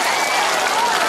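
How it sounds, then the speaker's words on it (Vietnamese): A crowd at a Vietnamese village festival comedy show bursts into applause: a brief, loud, continuous wash of clapping from many hands. "Một tràng vỗ tay hát ngay."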